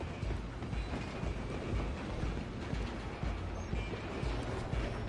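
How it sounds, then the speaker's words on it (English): Steam train running on the rails in the video game Red Dead Redemption 2, a steady loud rumble with rhythmic clickety-clack of wheels and no voices. "I'm gonna ride ahead and stop the train."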